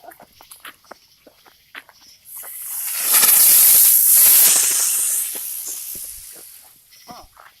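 A Fourth of July sunflower firework spins on the ground, rising into a loud, steady hiss for a few seconds before fading, with scattered voices and movement around it.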